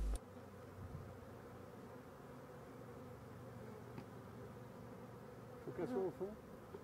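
A honeybee swarm of thousands of bees that has left the hive, giving a faint, steady buzzing drone throughout, with a brief nearer, louder buzz toward the end.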